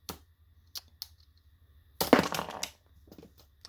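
A LEGO Star Wars Boba Fett mech, set 75369, fires its flick-fire missile: a few faint plastic clicks, then a short louder burst of plastic clattering as parts tumble loose, followed by small taps.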